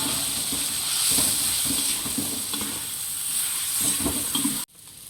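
Garam masala, chilli powder and biryani spice mix stirred in a pot for chicken biryani, giving a steady close sizzle and hiss with scraping stirs throughout, cut off abruptly near the end.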